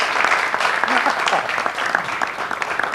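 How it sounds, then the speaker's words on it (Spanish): Audience applause for a guest being welcomed at a live show, dense and steady across the whole stretch, with a few voices calling out over the clapping. "vamos a recibirle con gran aplauso"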